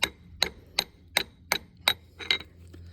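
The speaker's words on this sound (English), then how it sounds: "Okay, so we're obviously tapping it in. Once again, using brass" A brass hammer taps a part into a Ford Mustang 8.8 differential during a rebuild, seven sharp metallic strikes in an even rhythm, close and clear, with no talk.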